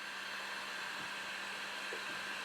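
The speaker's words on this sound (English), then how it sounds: "So let's get the heat gun. Add a little bit of heat" A heat gun blows hot air onto a vinyl decal on a car hood, giving a steady, close, unbroken whooshing hum for the whole stretch, with no voices.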